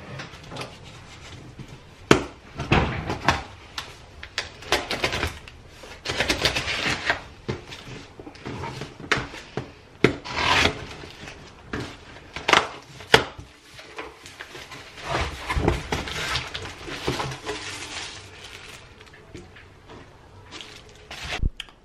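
Cardboard and plastic rustle, thump and scrape in a busy series of handling noises close by as an air fryer box is opened and unpacked.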